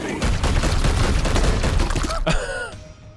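Psi cannon shots in the video game Warhammer 40K: Chaos Gate - Daemonhunters, a rapid volley of loud blasts and shattering impacts that ends in a ringing, descending tone and fades out.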